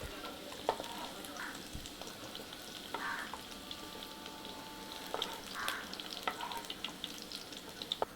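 Okra frying in hot oil for a cashew okra curry gives a steady, soft sizzle and crackle at low level, with a few brief clinks and stirs and no voices.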